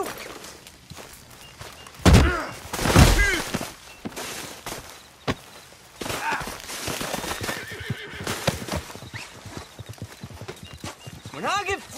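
A horse in the Red Dead video game neighs loudly near the start, followed by clip-clopping hooves and occasional thuds, with voices talking at times.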